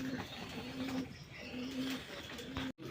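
A native Mumbai pigeon gives soft, repeated coos in a steady rhythm, about four low hums spread over a few seconds, faint against a noisy background.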